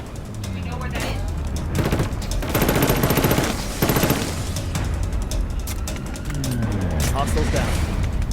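Rapid automatic gunfire in the shooter game Killzone Shadow Fall crackles in dense bursts over continuous game noise, with a heavier volley in the middle of the stretch.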